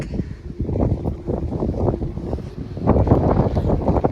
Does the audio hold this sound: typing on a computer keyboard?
no